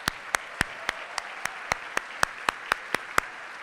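Applause for teachers at an HISD State of the Schools event, heard as sparse, evenly spaced claps, fairly faint and distant, over a steady background hum.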